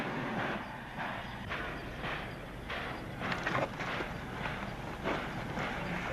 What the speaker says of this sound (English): All we got to do is pull that train out ourselves.